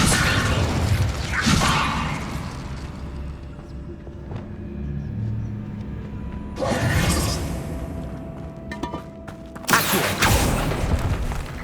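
The Incendio fire spell cast in Hogwarts Legacy inside a tomb, with loud whooshing, rumbling bursts of flame that swell and fade in waves over a steady low game ambience, with no talk.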